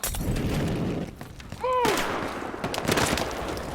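Video game gunfire in a crime-themed police shooter, a noisy barrage of shots and booms with a rising tonal whine in the middle, dense and continuous, loud and close.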